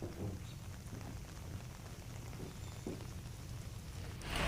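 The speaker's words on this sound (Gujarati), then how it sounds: "ભારે પવન સાથે તોફાની વરસાદ વરસતા લોકો અટવાયા છે" Heavy stormy rain driven by strong wind in Vadodara, a steady dense wash of rainfall with a low rumbling roar, constant throughout with a slight swell at the end, no voices.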